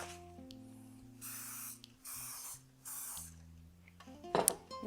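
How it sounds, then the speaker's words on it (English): Cooking spray is released onto a muffin tin in three short hissing bursts, followed by a light metallic clink. "I'm going to go ahead and spray my muffin tin with my cooking spray"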